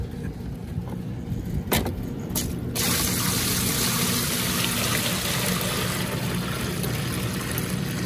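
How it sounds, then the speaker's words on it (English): Oak bark tanning solution poured into a soak for alligator hides, starting with a few knocks and handling noises before a steady gushing pour takes over and runs loud and continuous to the end. "I'm going to add more of this solution to it. So go ahead and pour that in here."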